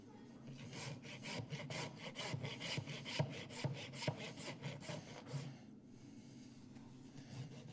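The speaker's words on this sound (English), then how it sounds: "So you can see my rasp is only getting that spot." A farrier's rasp files a horse's hoof with a cracked quarter, giving a run of steady, close, gritty strokes, about a dozen, that stop near the end and leave quiet room tone.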